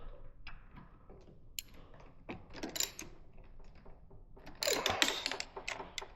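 A hand ratchet clicks in short bursts while breaking bolts loose on a Ninja 500 motorcycle during a keyless ignition install, with close, quick pawl ticks alongside clanks and handling of metal parts.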